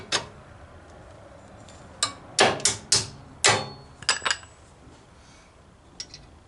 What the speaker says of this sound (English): Get the bolt in there.